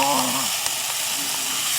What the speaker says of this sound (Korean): 그래서 한 반 큰술 정도나 한 큰술 정도의 올리브를 넣어서 달군 데다가 넣어주시고요. 아까 밑간했던 이 시래기를 넣어서